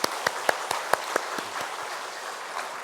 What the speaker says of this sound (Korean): 우리 하나님께 영광 박수 올려드릴까요?